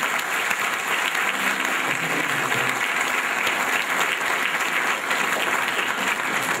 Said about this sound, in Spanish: Un aplauso a los guadalupanos,